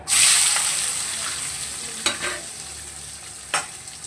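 Chopped onion sizzles loudly in hot oil in a pan, right after the tempering. A bright hiss bursts in at the start, then settles into a steady fry, with two sharp clacks of a spatula near the end.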